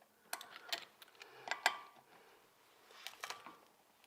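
Several sharp metallic clicks and ratcheting snaps from a wrench working a stuck brake caliper bolt on a BMW Z4 35is E89 roadster, close by, in short irregular bursts with pauses between.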